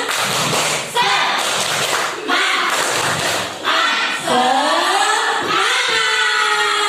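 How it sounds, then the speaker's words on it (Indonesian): A class performs a rhythmic 'tepuk semangat' spirit-clap routine, with bursts of group clapping and chanting voices alternating in a lively pattern, close and loud. "Tepuk semangat."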